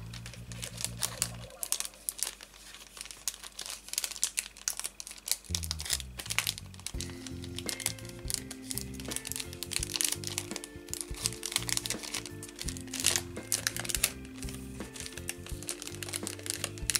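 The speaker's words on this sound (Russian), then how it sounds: "И я тоже ее запакую в пакетик." Lavender sachet being packed into a crinkly plastic bag: continuous close crinkling and rustling of thin film with sharp crackles throughout, no speech.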